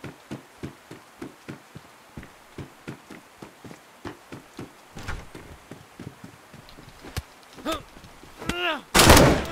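In the video game DayZ, a string of sharp, evenly spaced shots or thuds repeats, followed by louder cracks and a harsh burst at the end.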